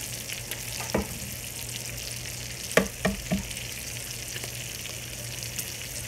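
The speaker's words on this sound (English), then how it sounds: "I still have the bacon going in this pan, but this one I cleared off, so I'm gonna go ahead and crack the eggs." Bacon and eggs fry in a pan with a soft, steady sizzle, broken by a few sharp clicks and taps near the start and middle.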